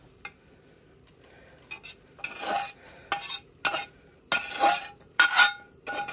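A utensil scrapes and clinks against a pan while a turkey sausage and pepper mixture is spread over potatoes for a breakfast casserole, coming in short irregular bursts of scratching amid quiet pauses.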